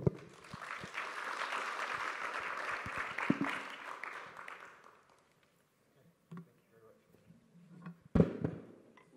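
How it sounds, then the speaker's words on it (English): A conference audience applauds a panel at a standards summit, a steady wash of clapping for about four seconds that fades out, followed by near silence and a few faint scattered sounds. "please give a big round of applause to our keynote speaker, Ian Opperman"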